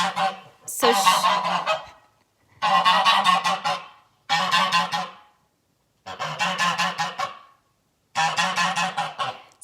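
A goose honks loudly and close in five separate bursts of rapid repeated honks, each lasting about a second with short silent gaps between.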